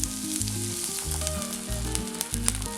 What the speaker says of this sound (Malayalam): ഇനി ഇതിലേക്ക് വെള്ളം ഒഴിക്കാം.